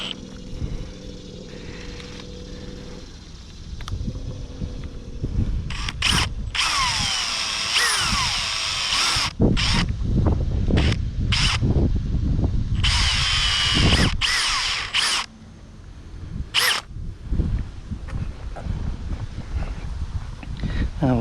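Power drill running during work on a John Deere lawn tractor head gasket job: repeated loud, close bursts of whirring drilling with short pauses between them, over a low background hum.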